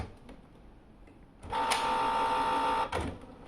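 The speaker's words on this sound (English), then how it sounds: "it took a little bit of the paper, but didn't get the full sheet of paper." A Canon Pixma MX395/MX475 inkjet printer with worn feed rollers whirs steadily for about a second and a half as it tries to pull in a sheet of paper, then stops, in a quiet room.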